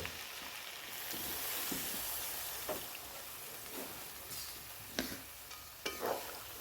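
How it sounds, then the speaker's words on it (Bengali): Water poured into a pan of okra and potatoes cooked down with spices, giving a steady hissing sizzle with a few sharp spatters and clinks toward the end. "এখন আমি পরিমাণ মতো জল দেব।"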